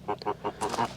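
Hens cluck in a quick, rhythmic series of short, close calls, with about five pulses packed into one second.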